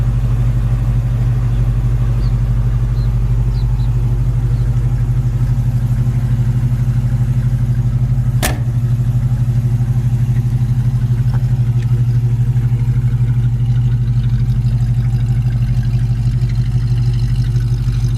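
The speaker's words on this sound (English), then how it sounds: "Exhaust sounds good." A 1973 Mercury Cougar XR7 idles steadily with a deep, even exhaust rumble, constant and close, broken once by a brief sharp click.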